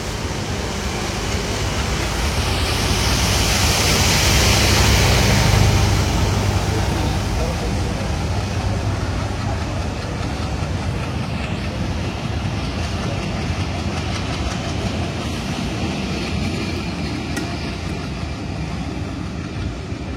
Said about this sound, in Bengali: চলে গেল খুলনা অভিমুখী নকশিকাথা কমিউটার ট্রেন।